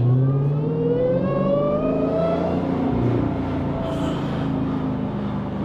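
A Dodge Challenger Hellcat, Jailbreak edition, accelerates hard, its supercharged engine and intake climbing in a loud rising howl through several seconds before easing off, with no talking.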